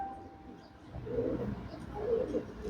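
Andhra tumbler pigeons give soft, low cooing calls in two swelling bursts, fairly close but quiet against a faint background, with no talking over them.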